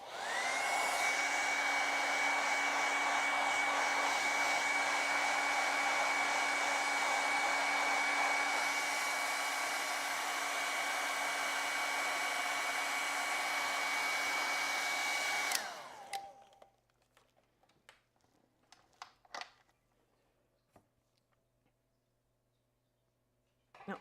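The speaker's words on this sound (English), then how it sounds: "let's dry that black so I don't get gray" Hair dryer blowing on black acrylic paint on canvas, a loud steady whine with a constant airflow hiss for about fifteen seconds, then switched off, leaving faint handling noises.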